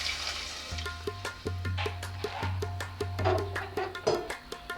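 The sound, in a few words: soaked kidney beans (rajma) poured into pot with water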